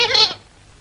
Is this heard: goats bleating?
yes